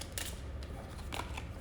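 Playing cards being shuffled, with a few quick papery riffling bursts over a low, steady background hum and no talking.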